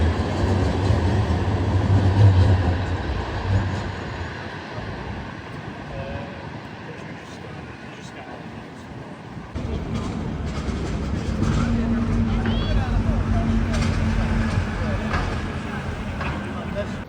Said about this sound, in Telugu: చూసారు కదా, బస్సు ట్రైన్ రెండు ఒకేసారి ట్రావెల్ చేస్తున్నాయి